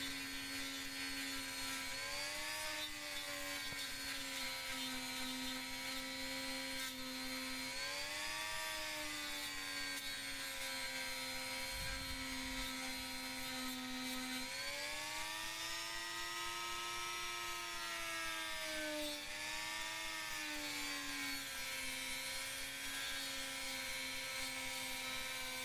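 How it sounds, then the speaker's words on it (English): A Dremel rotary tool runs steadily while sanding grooves into homemade knife handles, a continuous high whine that dips and rises in pitch as the load changes, loud and close with no talking. "I'm just sanding some grooves into the handles to give it some"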